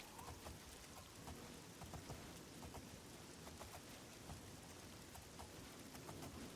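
Steady rain pours in the video game Oblivion, a dense, even hiss of falling water with scattered drop patters, continuous and fairly faint with no voices.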